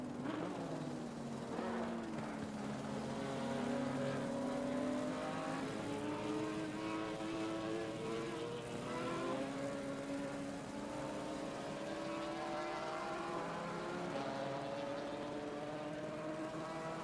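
GT4 race cars at Misano in a sim-racing esports championship, a steady, loud engine drone with rising and falling pitch as several cars run close together through the whole stretch.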